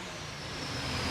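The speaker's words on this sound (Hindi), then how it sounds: "पीछे मार्बल कटिंग की मशीन चल रही है और बहुत शोर आ रहा होगा पीछे।" A marble cutting machine runs in the background, giving a steady, broadband grinding roar that holds at a constant loudness from start to finish with no talk over it.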